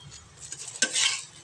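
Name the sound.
soybean paratha roasting on ghee-greased griddle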